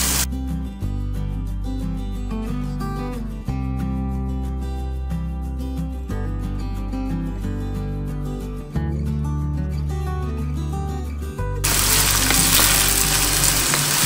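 Chicken meat fries in a pan over a medium flame for cooking with pumpkin, a steady sizzle under loud music, ending in a harsh hissing burst as it is stirred.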